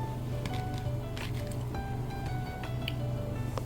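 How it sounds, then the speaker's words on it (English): Soaked black-eyed peas poured into a crock pot, quiet wet squishing and pattering as the peas tumble in, scattered soft splatters at close range. "Now into my crock pot go my peas that have been picked, cleaned through,"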